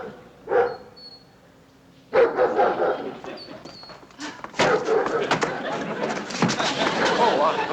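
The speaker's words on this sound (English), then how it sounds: "There was nobody in there but some barking dogs" Several caged dogs bark and yelp in bursts, with a metallic slam and clattering among them, growing busier and louder toward the end; people speak faintly at times.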